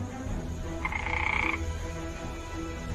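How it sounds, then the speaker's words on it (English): A frog croaks once in a short, buzzy call partway through, heard over a steady noisy background, with no talking. "Vulcan, step away from the frog."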